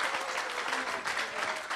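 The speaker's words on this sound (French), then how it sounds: "Acclame pour Jésus." A church congregation claps for Jesus, dense steady applause filling the room for under two seconds with a few voices mixed in.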